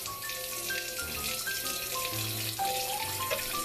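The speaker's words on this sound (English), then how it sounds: "Next step is we are going to add some water into a pot." Tap water runs steadily into a cooking pot being filled for boiling potatoes, a continuous splashing stream with shifting tones as the pot fills, close and moderately loud with no talking.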